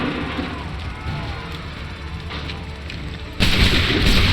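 Cannon fire in the video game Assassin's Creed 3: a dense, continuous rumbling barrage of booms that swells louder near the end, with no clear separate shots.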